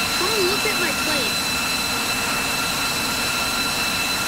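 The jet engine of a plane in a Roblox pilot flight simulator game roars as a loud, constant drone, steady and unbroken for the whole clip.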